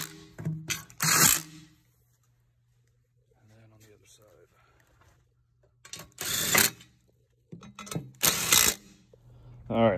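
A ratchet snugs bolts on the battery mounting brackets of a 2010-or-later EZGO TXT 48V golf cart during a lithium battery conversion, giving short bursts of close, loud clicking separated by quiet pauses.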